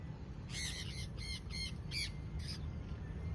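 A bird squawks in a series of about six sharp, raspy calls, fairly faint over steady background noise.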